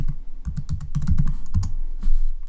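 Keys clatter on a computer keyboard in Windows 10 in a quick, uneven burst of close, fairly loud taps and thumps, pausing briefly before a final heavier press.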